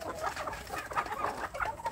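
Village chicken chicks cluck and peep in a short, faint burst of overlapping calls close by, with no talk.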